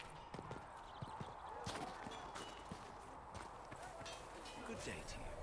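Horse hooves clip-clopping in a video game, a steady run of faint, quick hoofbeats over a soft background bed.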